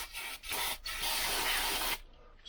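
Brake cleaner hisses from an aerosol can onto the casing of a 1964 Lambretta Li125 scooter, a steady broadband spray with brief pauses lasting about two seconds, then cutting off abruptly.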